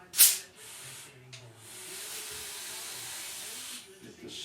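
Spray gun hissing out a coat of thinned finish onto a thin-line Telecaster-style guitar body, a sharp burst at the start followed by a steady, moderately quiet spray that runs nearly continuously.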